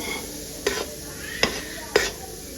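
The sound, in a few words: gram flour (besan) being stirred and roasted in a pan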